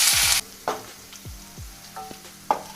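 Sliced onion sautéing in coconut oil with mustard seeds, starting with a loud hiss that cuts off abruptly, then quiet crackling broken by several short scrapes and knocks of a spoon against the pan.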